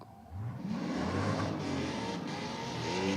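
At a Blackout Society car show, a car engine revs hard with a rising, roaring note that builds quickly and holds high RPM, loud and close, with a throaty exhaust rasp and no talking.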